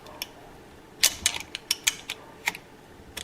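Wrench work tightening a bolt on a 1973 Honda CB750 engine during piston and cylinder installation: a series of sharp, close metallic clicks and ratchet ticks in irregular bursts, quiet between them.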